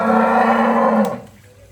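A single loud, close moo from a dairy cow offered for sale, one sustained low call lasting about a second before it trails off into quiet.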